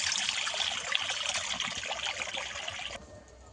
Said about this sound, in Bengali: কিছুটা জল দিয়ে দেবো আমি।